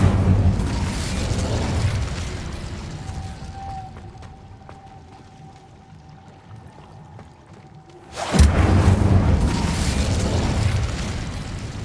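Incendio fire spell bursting in Hogwarts Legacy: a loud, broad fiery whoosh at the start and another sudden roaring blast around eight seconds, with a quieter humming stretch between.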